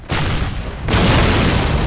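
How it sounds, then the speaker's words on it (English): A cannon in the Call of Duty World War II American campaign firing a heavy, close boom that rumbles on into a dense, sustained roar of blast and battle noise. "This cannon's about to go boom!"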